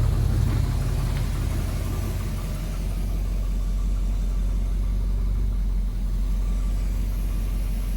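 Newly installed Chevrolet small-block 350 V8 idles steadily and loudly up close, a deep, slightly rough and grumpy rumble that holds constant throughout with no voices.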